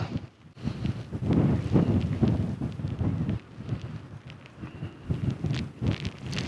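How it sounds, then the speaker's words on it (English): Gusty wind buffets a tent in the morning under cloudy skies with a few raindrops, a broad rushing roar that swells and eases in waves, close and fairly loud throughout. "It's a bit windier."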